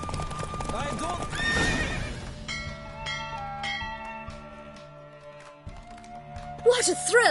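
In The Witcher video game, a horse races with quick rhythmic hoofbeats and snorting. A whinny cuts in near the end, and a voice speaks over game music.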